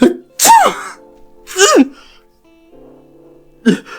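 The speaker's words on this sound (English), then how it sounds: "inhales and fakes a ginormous sneeze" A loud, exaggerated sneeze preceded by sharp inhaled gasps, ending with a final burst; a brief voiced sound sits between them.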